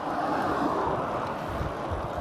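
Wind roars steadily past a cyclist on a long road ride, a loud, unbroken rushing noise with no pauses.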